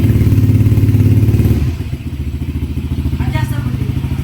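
A Honda Click v3 scooter fitted with a JVT v3 exhaust pipe and no remap idles up close, giving a deep, rapid, even throbbing pulse that loosens slightly partway through, with a brief faint voice late on.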